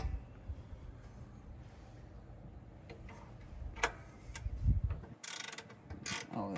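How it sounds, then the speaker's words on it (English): A 10mm Gearwrench swivel-head ratcheting wrench turns on a Toyota Celica GTS during radiator work, giving faint quick ratchet ticks and clicks amid shop clatter, with a few sharper metallic knocks near the end. "this one has a swivel head and it's ratchet style"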